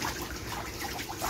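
Water runs from a shower in a steady, hissing, splashing stream, fairly close and continuous with no talking.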